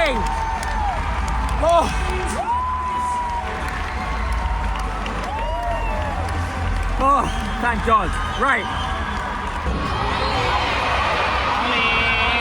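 A large arena crowd at a Eurovision national final results announcement in Estonia cheers and applauds continuously, loud and sustained, with excited voices speaking over it.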